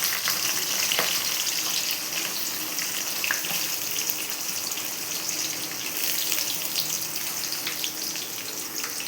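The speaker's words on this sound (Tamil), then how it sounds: "வெங்காயம் நல்லா வதங்கி வரணும்" Onions and green chillies sauté in hot oil, a steady, close crackling sizzle throughout, with small clicks and stirring sounds scattered over it and no talking.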